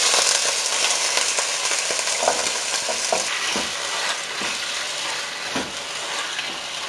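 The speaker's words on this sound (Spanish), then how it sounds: "Ahora vamos a empezar a freír el bistec" Beef steak fries in hot oil for fajitas de res, giving a steady, loud sizzle throughout with occasional soft crackles and stirring scrapes.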